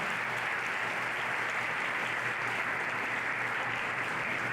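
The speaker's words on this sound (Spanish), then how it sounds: "Todos los varones y las que no tienen hijos le damos un aplauso a las mamás" Steady, even applause from an audience clapping for the mothers, a dense continuous patter with no breaks, moderately loud and uniform throughout.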